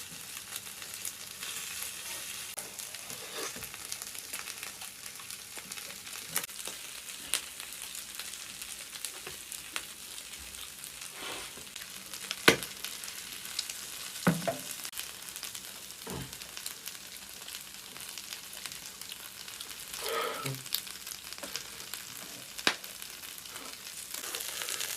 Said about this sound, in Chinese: 主要是这一卤，又一煎，把这个油脂给它煎出来了。